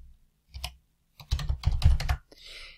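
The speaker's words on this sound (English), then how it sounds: "Let's type that in here." Someone types on a computer keyboard in a short burst of close key clicks, with a few isolated presses before the flurry and a brief softer sound at the end.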